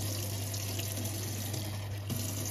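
Water runs from a tap as it is added to salted focaccia dough in a kitchen, a steady, fairly quiet splashing stream that carries on for the whole stretch under a constant low hum.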